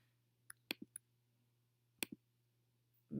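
A computer mouse gives a handful of sharp, quiet clicks at a desk while a homeopathic software program is used, in two short clusters over a low steady hum.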